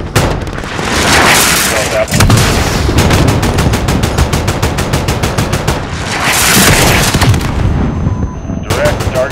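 Heavy gunfire and booming missile-strike blasts from Call of Duty Modern Warfare, loud and sustained for several seconds with rapid repeated bursts and rumbling impacts, then a brief quieter break before firing resumes.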